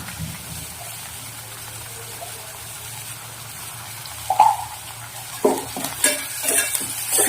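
Onions and flattened rice (poha) are sautéed in a pan, a low, steady sizzle that later gives way to several louder scraping stirs and clanks near the end.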